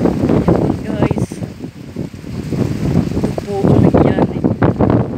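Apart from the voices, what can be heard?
strong wind blowing during heavy rain in Dubai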